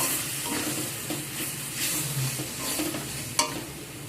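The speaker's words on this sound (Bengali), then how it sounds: "দিয়ে একসাথে মশলার সাথে চিংড়ি মাছটা ভালো করে কষিয়ে নেব।" Prawns sautéed with spices in a pan, stirred steadily with a soft continuous sizzle and a sharp utensil clink near the end.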